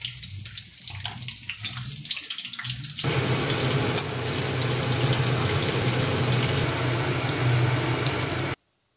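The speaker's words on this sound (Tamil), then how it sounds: "ரவுண்ட் ரவுண்டாக கட் பண்ணி வச்சுருக்க பாவக்காயை கொஞ்சம் கொஞ்சமாக பொறிச்சு எடுத்துக்கலாங்க." Round-cut bitter gourd slices fry in hot oil, giving a dense, steady sizzle that swells louder after a few seconds and cuts off abruptly near the end, with no talk.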